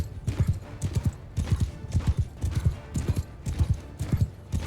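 Horse hooves gallop in a steady, driving clip-clop rhythm throughout, close and fairly loud, in the medieval combat game Mount & Blade II: Bannerlord, with no talk over them.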